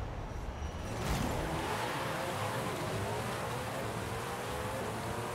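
A 2020 Koenigsegg Jesko with a drag tune launches down a drag strip in Forza Horizon 5, its engine a steady, loud continuous roar with rising harmonic whine as it accelerates through gears, filling the whole stretch without talk.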